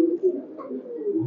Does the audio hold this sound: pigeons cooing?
yes